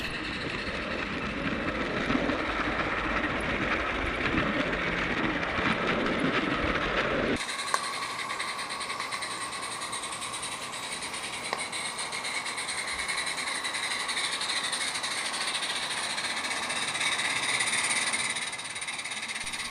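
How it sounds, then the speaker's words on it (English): A steady mechanical rumble and whir of a small model train running continuously on track, with a constant hiss and occasional clicks, no voices. "The third train simply demonstrates continuous running around the circuit."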